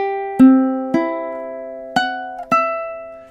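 Ukulele notes from measure 10 of a song, five clean plucks in a slow, steady rhythm, each ringing bright and close before decaying under the next.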